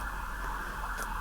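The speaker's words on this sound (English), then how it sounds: "I don't know why there are so many sirens tonight." Emergency sirens wail steadily in a tiny town at night, a continuous tone that stays constant and fairly distant, with no talking.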